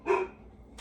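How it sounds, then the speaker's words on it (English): A puppy outside a window gives one sharp, fairly close bark for attention, followed by quiet and the start of another sound at the end. "one of the puppies is seeing me through the windows and barking for attention"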